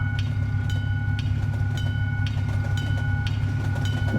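A train in the Truck Simulator Ultimate video game rolls past with a loud, steady rumble and a rhythmic clickety-clack of wheels over rail joints, heard over a constant engine drone.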